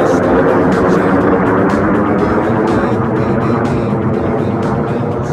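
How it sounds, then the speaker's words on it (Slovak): An airplane taking off from Vienna airport gives a steady, loud broadband roar that holds without a break, with no voices over it. "A tam vidíte lietadlo, ktoré štartovalo z viedenského letiska."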